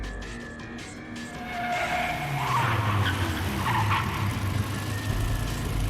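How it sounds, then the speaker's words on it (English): Tires skid and squeal as a car's rear end slips and it spins in a circle in Steins;Gate 0, a rising screech over engine rumble that swells loudly and holds for several seconds. "Rear tires slipped. Car spun in a circle."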